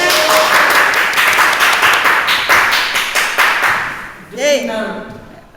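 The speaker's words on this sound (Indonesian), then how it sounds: "Tepuk tangan." A class of seventh-grade students claps together in a loud, close round of applause with rhythmic pulses, dying away after about four seconds as a voice speaks briefly.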